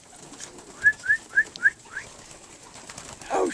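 Young birds fussing over peanuts give four short rising whistled calls in quick succession, close and clear, followed by a softer call and a brief rustle.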